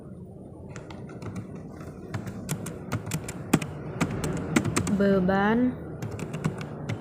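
Typing on a computer keyboard while entering accounting figures, quick irregular key clicks up close, with a person speaking over the tapping.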